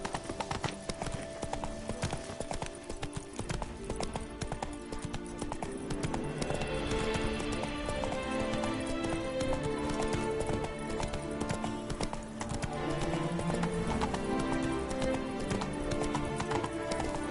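Roach, a horse in The Witcher 3, gallops with rapid, rhythmic hoofbeats pounding continuously, mixed with a soundtrack of music that swells in the second half, moderately quiet overall.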